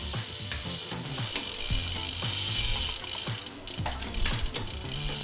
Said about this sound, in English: Just push it enough and you can get the chain to move from sprocket to sprocket.